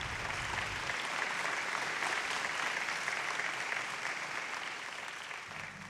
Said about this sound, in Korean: 전 세계 7억 명 이상의 사람들이 그를 향해서 기립박수를 보내고 있었다.